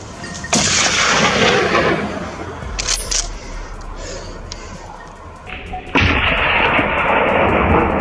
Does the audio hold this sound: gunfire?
yes